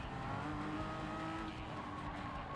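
Race car engine in the Gran Turismo driving game, a loud steady roar with faint tire squeal as the car runs slightly off the road, continuous throughout with no talking.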